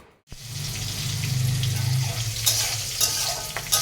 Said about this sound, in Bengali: ঠাকুরের ভোগের রান্না বসাই দিচ্ছি। নিরামিষ তরকারিটা বসাই দিলাম।